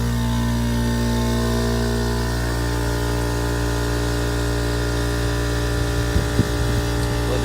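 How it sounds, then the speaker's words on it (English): An air compressor runs steadily nearby, a continuous droning motor hum with a rich buzzing tone and no pauses. There is no talk. "So we've got the air compressor running."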